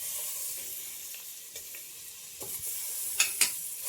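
Butter being stirred and melted in a pan while cooking farofa, a soft faint scraping and stirring with a low sizzle, a few sharper scrapes and clinks near the end, no talking.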